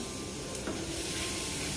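Masala of turmeric, Kashmiri red chili and garam masala roasts in a pan over low heat, a steady soft sizzle and hiss running throughout without pause, close-up and alone.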